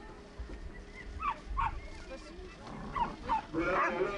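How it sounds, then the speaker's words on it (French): Dogs whimper and yip intermittently at moderate distance while getting ready for a PVL canine event, the high whines scattered through a quiet background with soft voices around. "vous avez donc 2 autres chiens qui se préparent"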